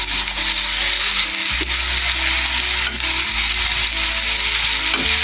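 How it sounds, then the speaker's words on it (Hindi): Sliced onions frying in hot oil for bheja masala, a steady loud sizzle with occasional stirring scrapes and clinks throughout, no voices. "अब इसको सबसे पहले हम प्याज को हल्का ब्राउन करना है।"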